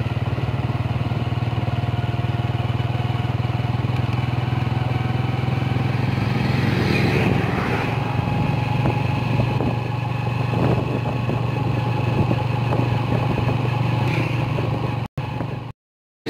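A Yamaha YBR 125G motorcycle engine runs steadily while riding, a constant low droning hum with small rises in revs, close and loud until it cuts off abruptly at the end.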